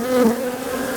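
Honey bees buzz in a steady, close drone during a spring hive inspection as a nuc is transferred into a bigger box.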